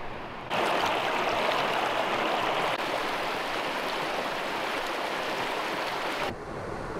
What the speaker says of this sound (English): I hiked in a little bit further and I made it to the Nescopec Creek